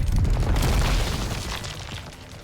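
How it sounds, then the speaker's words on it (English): A deep explosion in the video game Nikke, a heavy low boom that rolls and slowly fades over a couple of seconds, loud and alone. "An explosion rings out in the distance, and the gunshots stop."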